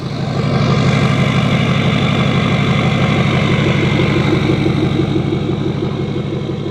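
A loud, steady 6.4L diesel engine of a 2010 Ford F-350 pickup idling up close, with a deep rumbling throb that holds constant throughout.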